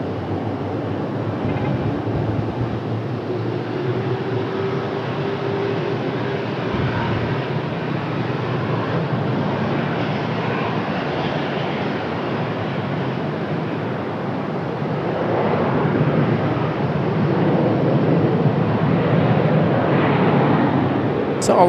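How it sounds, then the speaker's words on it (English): A Boeing 737-9 airliner arriving from Newark lands on runway 23 right at Raleigh-Durham, a broad, steady jet roar heard from a distance for over twenty seconds that swells slightly toward the end. "runway 23 right, clear to land. This is our 737-9 from Newark, New Jersey."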